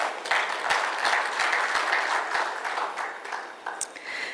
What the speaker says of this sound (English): I think all of those deserve a round of applause.